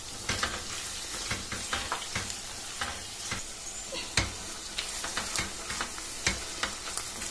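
Brinjal and green chilli masala curry being stirred in a pan, with repeated scraping strokes and a soft sizzle running underneath, close and steady without any talking.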